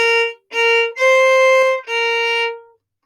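Measures 15 and 16 of a blues tune bowed on a violin: four separate notes with short breaks between them, the middle one held longest, played alone with no voices.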